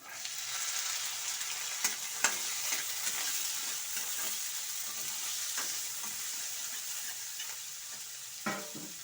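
Green peas for a dosa palya fry in a pan with a constant close sizzle, broken by scattered clacks and scrapes of stirring, and no one speaks.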